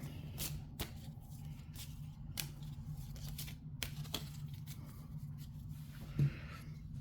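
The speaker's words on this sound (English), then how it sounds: "I'm just going to shuffle that robot duplicate back in" Cards being shuffled back into a Marvel Villainous board game deck make a series of crisp, separate snaps and flicks over a low background hum, with one louder thump near the end.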